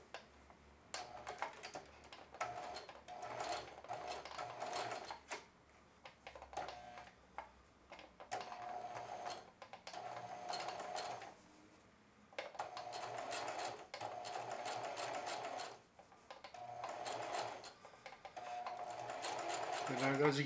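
A sewing machine runs slowly in short bursts of stitching as a zipper goes onto fabric. The rapid ticking stops and starts between pauses, and a voice talks quietly throughout.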